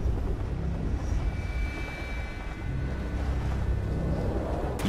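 A military chopper in the video game Prototype 2 gives a continuous whirring drone of rotor and engine at moderate distance, fairly steady with slight swells, and no voices over it.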